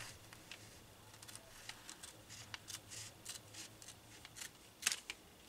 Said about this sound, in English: So now I'll now cut at the front panel.